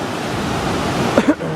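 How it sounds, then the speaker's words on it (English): River water rushing past a pier and down a set of stairs, a steady close broadband roar with no breaks, with a brief faint voice-like sound near the end. "You see the water hustling down there."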